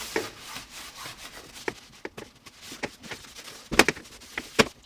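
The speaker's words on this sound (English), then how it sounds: "So we'll give it a wipe down with a towel to try out this last thing" A towel wipes down a Tefal Easy Clean+ frying pan, producing soft close rubbing and scuffing with scattered sharper knocks and clicks against the pan, irregular and unaccompanied by speech.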